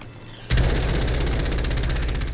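Kilo assault rifle in Black Ops 6 Zombies opens up in a sudden loud burst of rapid, continuous automatic fire that holds steady to the end, close and dense, with no talking.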